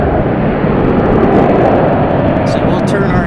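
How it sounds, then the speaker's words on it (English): A Boeing 747-400 airliner from Houston roars at a busy airport, a loud, unbroken engine rumble that fills the whole clip at constant strength. "we'll turn our attention behind us for the 747 from Houston, a 747-400"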